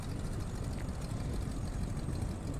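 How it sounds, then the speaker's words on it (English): A PT-17 Stearman biplane's engine idles in Microsoft Flight Simulator, a low, steady rumble that holds evenly at a fairly quiet level with no other sounds. "instead of just listening to a roaring engine the entire time"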